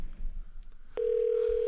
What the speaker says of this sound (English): I like hearing the ringtone.